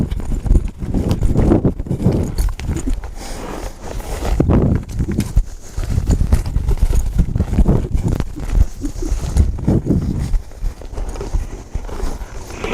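Hooves of a cutting horse working a cow, clip-clopping in uneven rapid bursts on dirt, close and steady, with a faint voice speaking in the background.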